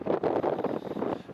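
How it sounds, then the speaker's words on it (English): Strong gusts buffet an outdoor microphone beside an airport runway, low rumbling wind noise pulsing in quick uneven bursts, close and loud with no talk. "It is very windy today."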